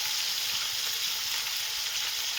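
Three or four chopped green chillies sizzle in hot oil, a bright, steady frying hiss that stays close and even with no talking over it.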